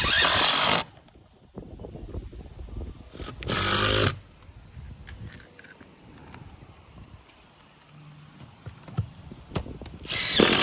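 A power drill drives screws into metal roofing panels at a ridge outdoors in Florida, in two or three loud, short bursts of about a second each. Quieter rustling and handling fill the gaps between bursts.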